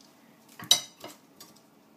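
A lid set onto a ThermoChef pot while a barbecue-sauced burger cooks inside, heard as a short metallic clatter with two fainter clinks after it, close and clear in a quiet kitchen.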